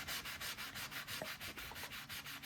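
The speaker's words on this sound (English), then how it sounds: "We're just going to use our sanding block." Steady back-and-forth strokes of a sanding block on a paint chip, a rhythmic raspy scrubbing repeated about ten times, close and fairly quiet.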